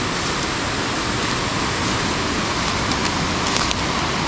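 Steady, loud rush of waterfalls and flowing water at a river junction, a continuous broadband roar with no breaks across the whole stretch.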